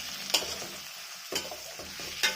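Tomatoes fry with salt in a pan, giving a steady close sizzle broken by several scraping strokes of a spoon stirring them, with no talking.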